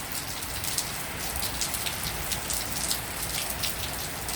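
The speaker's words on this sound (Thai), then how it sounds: "ผมบรรยากาศมันดีเกินไปมือนี้ครับผมเพราะว่าฝนมันตกนะครับ" Steady rain falling on a surface, a dense continuous patter of drops with occasional sharper splashes, close and moderately loud with no talk.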